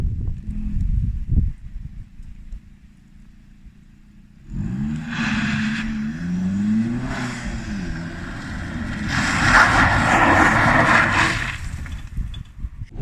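Engine of a 2007 Opel Corsa OPC with a 1.6-litre turbo four-cylinder and full exhaust, heard from inside the cabin while driving on the road: a low steady drone that rises into louder revving pulls with whooshing turbo noise.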